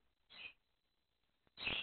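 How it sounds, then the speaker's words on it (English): Two short calls from pet birds in a quiet room, the second louder and fuller, separated by about a second of near silence. "Oh, I think I've upset my birds."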